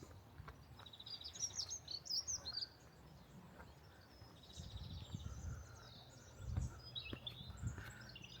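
Small birds chirp and twitter in bursts across a quiet garden, soft and somewhat distant, with faint insect buzzing beneath and no talking.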